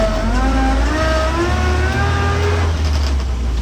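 A 1959 Land Rover Series II 109-inch pickup driving with its engine droning loudly close by, the pitch climbing and dropping again as the gears change, with a constant low rumble throughout.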